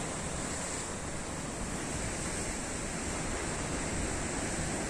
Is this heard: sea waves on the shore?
yes